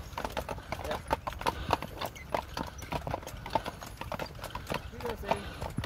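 Steady clip-clop of horse hooves on a hard surface, a quick uneven rhythm close by, with people talking over it.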